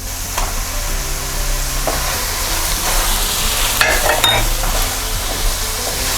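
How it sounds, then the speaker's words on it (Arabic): Minced meat fries with lightly browned onions in a pan, giving a loud, steady, close sizzle broken by the scrape and clatter of stirring. "شوحنا البصلايه مش قوي، خدت لون مستكاوي، وهننزل عليها باللحمه المفرومه."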